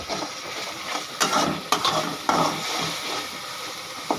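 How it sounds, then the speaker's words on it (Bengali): Ginger, garlic and cumin stirred in a hot pan, with a steady sizzle broken by several sharp scraping stirs of a utensil against the metal, close and fairly loud, no voices. "আদা দেবে, রসুন দেবে ইত্যাদি, জিরাও দেবে। দেখেন নাড়া দিচ্ছে।"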